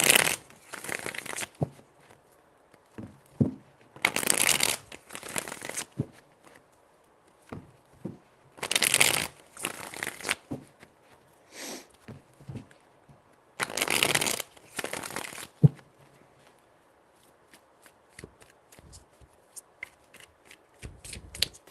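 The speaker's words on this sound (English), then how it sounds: "Four shuffles." Tarot cards are shuffled in several short, crisp riffling bursts separated by quiet pauses, close and fairly soft, with faint handling taps between.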